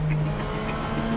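A Lotus Elise sports car runs at high speed, giving a loud, steady engine drone with a sustained tonal hum and road roar in a brief burst.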